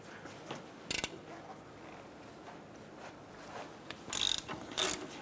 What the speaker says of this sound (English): Using a 17mm socket, let's go ahead and remove our two brake caliper bracket bolts.